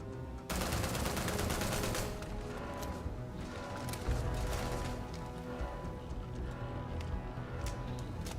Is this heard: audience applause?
no